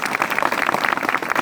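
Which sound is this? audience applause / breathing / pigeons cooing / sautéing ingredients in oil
audience applause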